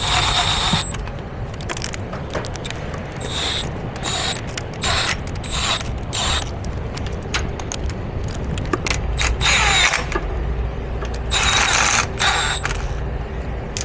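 A power tool runs bursts of rapid ratcheting and whirring as it tightens the lower bolts on a 2007–2025 Mercedes Sprinter rear differential cover, close and loud, with mechanical clicks between bursts and no talking.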